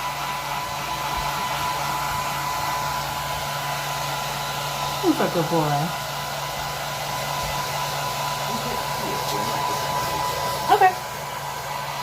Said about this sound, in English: the blow dryer is his favorite part of getting a bath